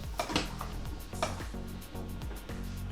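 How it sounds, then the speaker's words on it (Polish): A spoon scrapes and knocks around inside a pot of simmering vinegar brine for pickled herring in irregular strokes, with a steady low simmering hiss underneath. "możemy zamieszać"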